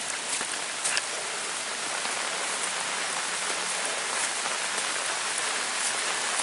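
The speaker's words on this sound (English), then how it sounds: "It's raining." Steady rain falling outdoors on a homestead, a constant, even hiss of drops on surfaces with a few brief louder taps, heard alone with no voices.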